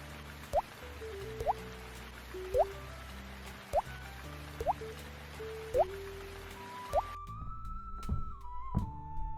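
Last raindrops of a storm falling one at a time in a slow, regular series of distinct plinks, clear and fairly close, over a soft musical background.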